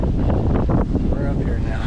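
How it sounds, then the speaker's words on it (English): Strong wind buffets the microphone aboard a small boat on open water on a windy day, a loud steady roar with low rumble, partly under a voice. "that wind got a little tough there at the end."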